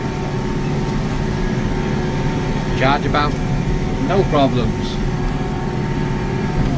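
A McCormick CX105 tractor engine runs at a steady drone while the tractor is being driven, a continuous low rumble that holds throughout, with someone talking briefly over it midway.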